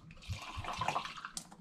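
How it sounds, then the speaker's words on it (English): Homebrewed wort for an all-grain sweet rauchbier is poured into a flask, giving a short, fairly faint liquid splash and trickle lasting under two seconds. "So I'm just going to pour some"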